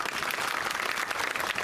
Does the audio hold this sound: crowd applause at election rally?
yes